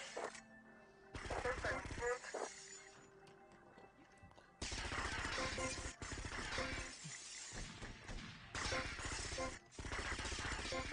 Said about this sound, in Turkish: Alt kattaki camları kırın.